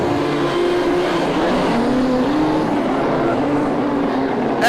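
Modified production race cars roaring around Lismore Speedway at night, a dense, loud, sustained engine drone with rising and falling pitch as the pack races, continuous throughout.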